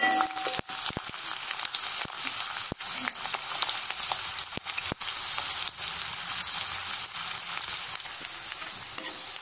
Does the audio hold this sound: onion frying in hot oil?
yes